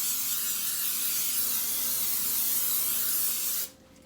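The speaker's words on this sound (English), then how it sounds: "I will be spraying this with some cooking spray" Cooking spray hisses steadily from an aerosol can while greasing a bundt pan, a loud, continuous close spray that runs unbroken for several seconds and then stops abruptly.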